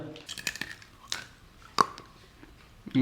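Jackfruit chips being bitten and chewed up close, with a few sharp crunchy bites and softer mastication sounds spread across a short quiet stretch, no talking.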